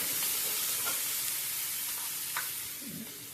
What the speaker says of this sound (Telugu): ఇప్పుడు అల్లం పేస్ట్ వేస్తాము.